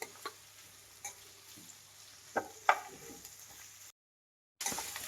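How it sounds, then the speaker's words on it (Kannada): Onion and capsicum frying in a pan for gooseberry chitranna, a steady soft sizzle with a few scattered stirring clinks and scrapes, cut off by a brief silence before the sizzle resumes. "ಒಂದು ಸ್ವಲ್ಪ ಚೆನ್ನಾಗಿ ಫ್ರೈ ಆಗಬೇಕು ಈರುಳ್ಳಿ, ಕ್ಯಾಪ್ಸಿಕಮ್ ಎಲ್ಲ"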